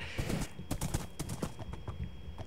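Hooves clip-clop from a horse in Minecraft, a brisk uneven run of close, loud steps over a soft background hum.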